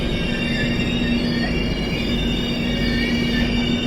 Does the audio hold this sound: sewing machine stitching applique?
no